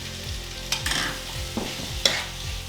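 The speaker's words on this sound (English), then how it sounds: "And then I pop in the whole sweet corn as well and just give it a good stir." Whole and crushed sweet corn stirred in a sizzling pan with sesame seeds, a few distinct scraping strokes of the spoon over a steady low fry, close and fairly loud, no voices.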